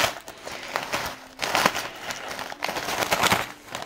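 Bag of coarse Guérande sea salt torn open by hand without scissors, giving bursts of crinkly, rustling plastic noise that come and go over several seconds.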